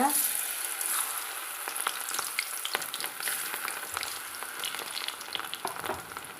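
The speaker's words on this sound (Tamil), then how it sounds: "இப்போ நம்ம இந்த காஞ்ச எண்ணெயில் வந்து நம்ம ஒன்று ஒன்றா போட்டு பொரிச்சுக்கலாங்க" Vegetable fritters deep-fry in hot oil, giving off a continuous bright sizzle and crackle with small bubbling pops throughout, close and steady.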